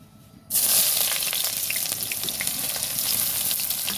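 Onions dropped into hot oil in a wok burst into a loud, close sizzle that holds steady and strong after a brief quiet start.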